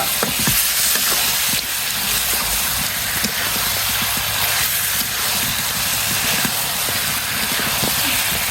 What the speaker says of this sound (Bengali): হাঁসের মাংস ভাজা